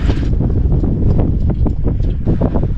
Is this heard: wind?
yes